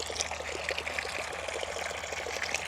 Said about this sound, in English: Maybe if I take the plug like halfway out, the water will seep out and the dirt won't.